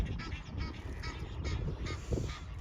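Ducks, including one named Waddle, quacking and honking loudly in a busy flock, calls overlapping continuously with no clear pauses.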